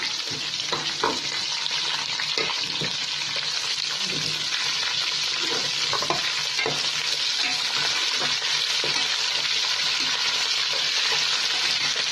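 Masala fries in oil in a pan on the stove for a bhindi fry dish, a steady close sizzle with repeated scraping and clinking strokes from stirring, and no talk.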